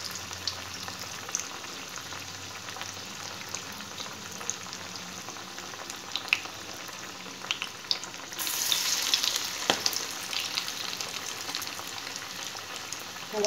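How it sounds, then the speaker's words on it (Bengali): Lentil and onion fritters with water spinach and helencha greens fry in hot oil in an iron wok, a dense continuous sizzle that swells louder partway through as more batter goes in. "আমার কড়াইয়ে তেল গরম হয়ে গেছে, এখন আমি একে একে পেঁয়াজিগুলো দিয়ে দিব।"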